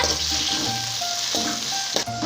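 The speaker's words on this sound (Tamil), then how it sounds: "நல்லா வதக்கி விடுங்க" A loud, steady sizzle of chopped tomatoes frying in a hot pan, close up, with occasional scrapes and clinks of stirring and no voices.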